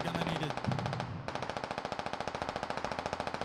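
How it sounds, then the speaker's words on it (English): Sustained automatic fire from a gun in a military shooter game, a rapid, even stream of loud shots following an earlier burst, with no talk. "Put your gun on auto. Auto fire."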